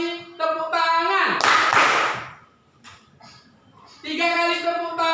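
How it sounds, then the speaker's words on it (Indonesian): Classroom pupils clap hands together in a short burst of claps between a teacher's spoken rhythm counts, loud and close, with talking before and after. "1 kali tepuk tangan, 2 kali tepuk tangan,"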